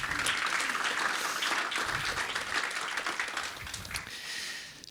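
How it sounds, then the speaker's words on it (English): Attendees at a deep tech expo give themselves a round of applause, a loud, dense burst of clapping from a large crowd that holds steady and then gradually thins toward the end. "So let's give all of ourselves a round of applause."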